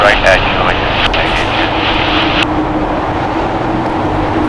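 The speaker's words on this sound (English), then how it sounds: "Air Prima Flight 101 coming from Seoul. It is a 10-hour and 42-minute flight on a Boeing 787-9 Dreamliner." An Air Premia Boeing 787-9 Dreamliner arriving at LAX on runway 25 right after a long flight from Seoul, its engines a loud, steady broadband roar close by, with brief higher whine early on and someone talking over it.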